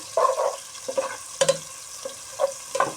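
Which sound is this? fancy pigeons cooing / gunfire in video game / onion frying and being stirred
onion frying and being stirred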